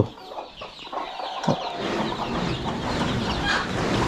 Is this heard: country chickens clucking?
yes